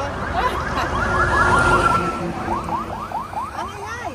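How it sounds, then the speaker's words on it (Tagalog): Several ambulance sirens wail through busy street traffic in the Philippines, their rising and falling sweeps overlapping loudly and continuously around the listener amid engine rumble. "Ang ingay! Ang dami ambulansya."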